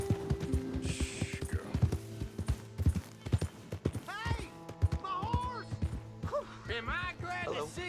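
Horse hooves clip-clop at a steady walking rhythm in Red Dead Redemption 2, close and clear, alongside a voice and some game ambience.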